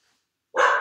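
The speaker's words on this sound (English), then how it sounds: "the dog started barking like crazy" A single sharp dog bark bursts out loud and close after a stretch of near silence, cutting off abruptly.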